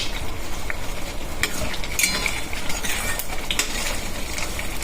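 Chili powder and coriander-cumin powder are stirred in a hot pan, with a spoon scraping and clinking against the metal over a steady sizzle, up close and without talking.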